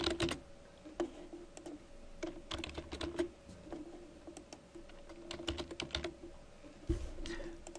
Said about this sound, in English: Go ahead and type John, so on and so forth